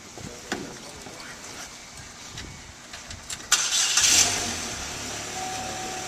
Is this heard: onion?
no